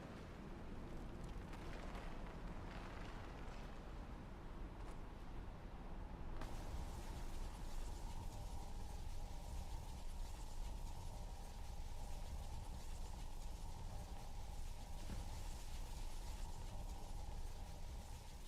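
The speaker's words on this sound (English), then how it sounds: "She actually did it. Created a portal with a soul cannon." In Skyrim Dawnguard, a portal opened by a soul cannon roars and churns continuously with a dense rumbling texture. The sound shifts character partway through and then settles into a steady hum with creaking mechanical undertones.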